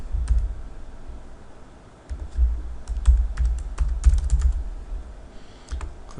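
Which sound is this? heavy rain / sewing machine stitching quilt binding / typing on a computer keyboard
typing on a computer keyboard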